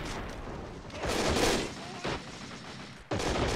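MG34 and MG42 machine guns fire in the World War II strategy game Men of War: Assault Squad, a dense battle mix of overlapping bursts and shots that carries on steadily with a sharp new volley near the end.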